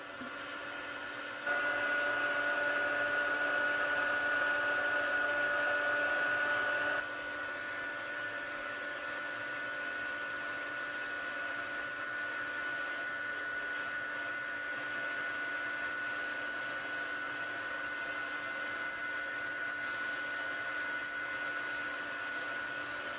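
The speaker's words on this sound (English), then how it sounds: "So I'm going to get my heat tool" A craft heat tool blows steadily to melt white embossing powder, a continuous whooshing hum that swells louder for a few seconds near the start and then settles into a slightly softer, constant drone, with no talking.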